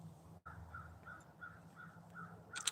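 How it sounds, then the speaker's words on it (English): Crows caw repeatedly in the background, a run of evenly spaced calls at moderate distance, with a brief dropout early on and a louder noise at the end. "the crows are saying hello"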